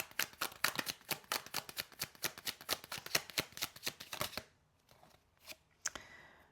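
Tarot cards riffle-shuffled in a quick, crisp run of about twenty snaps, close and soft, then a pause and a few last card slaps; no talking.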